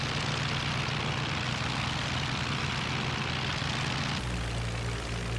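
Propeller aircraft engines from the IL-2 Sturmovik World War II flight game drone steadily and loudly throughout, a dense continuous roar with a low throbbing hum that shifts pitch near the end.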